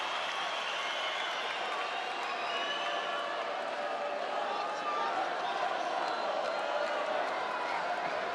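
Arena crowd at a Carl Frampton vs Horacio Garcia boxing match, a continuous broad roar of cheering and clapping that swells slightly toward the end, under a commentator's voice.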